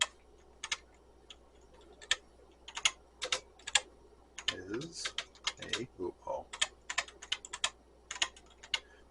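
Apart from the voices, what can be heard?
typing on a computer keyboard being tested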